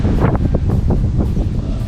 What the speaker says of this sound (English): It's a bit windy today, so you might get some background noise